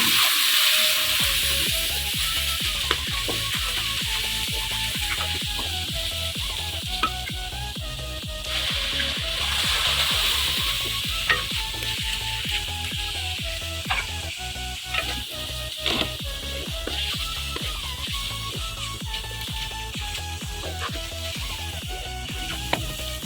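Gravy masala for dhaba-style daal maash sizzles steadily in a hot pan while being stirred, a dense continuous hiss with scraping strokes throughout, close and fairly loud with no talking.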